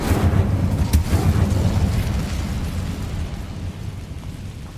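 Incendio fire spell cast in Hogwarts Legacy, a loud sustained whooshing blast with a sharp burst near the start, rumbling low and fading slowly over several seconds.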